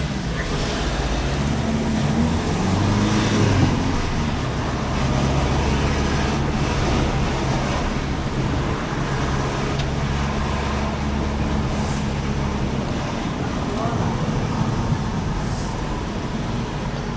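A car drives the narrow two-way SS163 coastal road on the Amalfi Coast near Positano, squeezing past oncoming traffic including buses; a steady, close engine and road rumble runs throughout with no talking.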